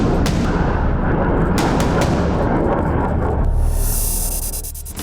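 Artillery and gunfire in military footage of modern weapons, a dense, loud barrage of booms and rapid shots rolling together, with a rushing roar toward the end.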